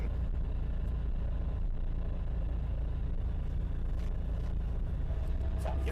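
An oval-window VW Beetle's engine hums steadily while driving, a low drone throughout with road rumble, no voices heard.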